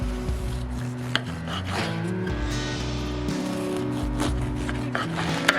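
A knife saws through a dense, warm loaf of homemade bread in repeated rasping strokes, close and fairly loud, with a few knocks against the board.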